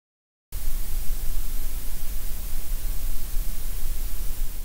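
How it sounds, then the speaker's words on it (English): Gray noise, white noise shaped by a psychoacoustic loudness curve, enters after a brief silence as a continuous rushing hiss with a fuller low end, steady and fairly loud throughout. "And here's gray."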